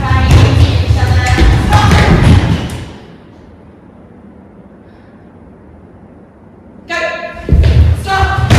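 A group of people in a movement workshop speed up, land and bang into each other: loud clustered thuds and scuffs, then a quiet gap of several seconds before a fresh burst of heavy impacts.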